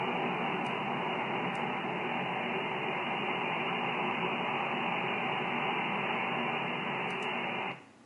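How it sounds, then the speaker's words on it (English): A wideband DRM digital radio broadcast tuned on a Collins 390 analog receiver comes through as a steady, dense hiss of noise that holds for about eight seconds and then cuts off abruptly. "if you try to listen to this signal with an analog receiver, you just hear a sound like this"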